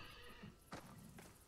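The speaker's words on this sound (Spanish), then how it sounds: "Hace enfadar al caballo." An angered horse neighs in the video game Desperados 3. Two short, sharp whinnies ring out over faint hoof clip-clops and a low game background, moderately close.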